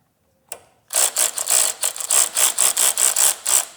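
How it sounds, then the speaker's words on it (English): A power ratchet backs a bolt out of a Harley-Davidson Softail shift linkage with a close, loud run of about a dozen rapid, evenly spaced ratcheting bursts, after one short click at the start. "And now I'll just use the power ratchet the rest of the way"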